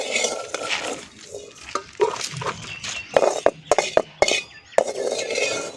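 Fried lotus seeds being scooped onto a plate: a series of clinks, taps and scraping knocks of utensil on dish, irregular and close, with a faint sizzle in the background and no speech.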